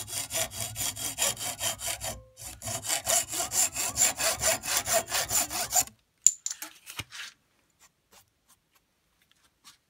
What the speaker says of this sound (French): je vais lui couper la tête avec la scie à métaux